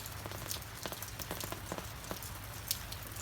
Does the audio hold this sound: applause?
no